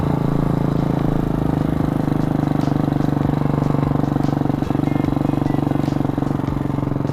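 A 2020 Hawk 250 Enduro motorcycle being ridden, its engine droning loud and steady throughout with a pulsing rumble and light mechanical clatter, with no voices.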